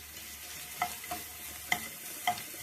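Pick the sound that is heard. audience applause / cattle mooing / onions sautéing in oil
onions sautéing in oil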